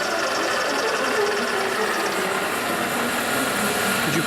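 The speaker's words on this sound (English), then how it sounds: "This is the left-hand head rotating at high speed." A G&L machine's left-hand spindle head spins at high speed, giving a loud, steady mechanical whine and whir that holds unchanged throughout with no talking.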